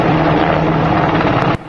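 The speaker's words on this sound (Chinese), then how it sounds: "这几天社群媒体上出现这段塔利班疑似成功驾驶美军黑鹰直升机低空巡逻" A US Black Hawk helicopter flies low overhead, its loud, steady rotor and engine roar filling the air before cutting off sharply near the end.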